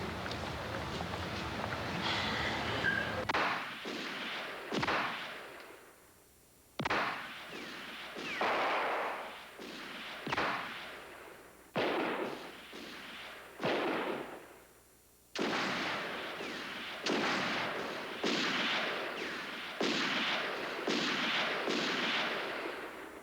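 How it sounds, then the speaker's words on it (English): Gunshots at shooting practice ring out one at a time, about a dozen sharp reports spaced a second or two apart, each trailing off in a short echo, fairly loud and close with no talk over them. "You said you haven't been shooting lately."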